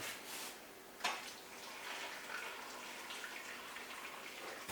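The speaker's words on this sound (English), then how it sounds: "Boiling water." Boiling water poured into a soup pot, a steady soft gushing splash with a brief louder clatter near the start, faint and continuous throughout.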